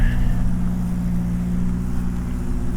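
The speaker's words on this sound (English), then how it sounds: "This guy's car is really loud for some reason." A loud, rough car engine with no muffler drones steadily at close range with a deep, unmuffled rumble and no let-up.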